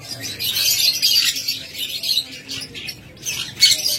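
Pet lovebirds, budgerigars and cockatiels calling at a bird farm, a busy overlapping mix of shrill chirps and squawks with a brief lull before another burst.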